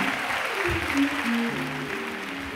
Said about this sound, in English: Give Bruce a great big hand clap.